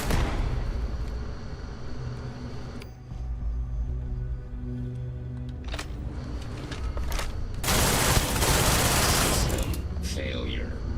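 Turret gunfire in the sci-fi game Starfield: sustained rapid bursts of shots over a rumbling background, rising to a dense, loud fusillade near the end, with no speech.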